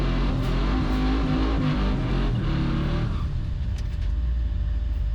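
Twin-turbo GMC truck roaring loud and close as it drag races a Cadillac CTS-V at a drag strip, a sustained engine drone that drops away after about three seconds into a steadier hum.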